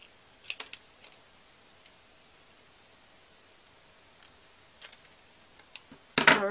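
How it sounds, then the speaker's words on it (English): Scissors snip a small V notch into a strip of paper for a handmade card: a few soft, sparse clicks spread over a quiet background, then a louder, close burst of cutting and paper rustle at the end. "I'm going to take my scissors and cut a little V out of both sides"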